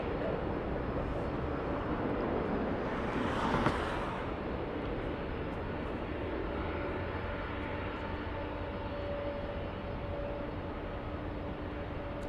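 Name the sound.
Japan Airlines flight 6 airliner at LAX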